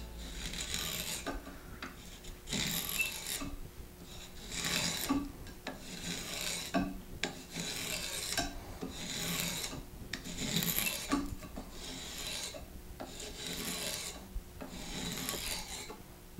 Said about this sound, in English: now that I've got my spokeshave all set up, I've got actually a very deep cut set up.